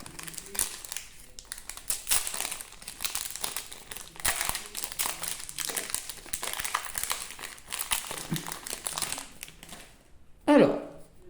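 Pokémon card booster packs being opened, their foil wrappers crinkling and rustling almost continuously, with a louder tear near the end as someone talks over it.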